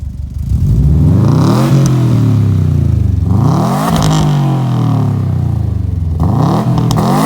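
A 2012 Subaru Impreza STI with a Magnaflow exhaust revs loudly and close up, three rising engine sweeps climbing and falling back in turn, with no talking.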